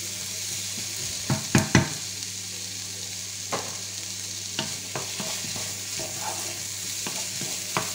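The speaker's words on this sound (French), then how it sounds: "on fait revenir jusqu'à que nos oignons deviennent translucides, qui cuisent pas trop" Onions and garlic sauté in a pan for boeuf bourguignon, a steady close sizzle punctuated by sharp utensil stirring clacks, clustered early and then spaced out, with no speech.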